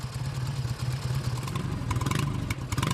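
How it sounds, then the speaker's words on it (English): A restored BSA Golden Flash motorcycle engine fires up and runs with a rapid, even thumping beat and mechanical clatter, fairly close and on its own. "The BSA starts right away"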